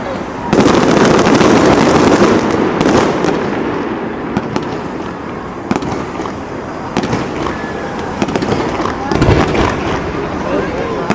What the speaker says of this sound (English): the real showstopper basically was the firework display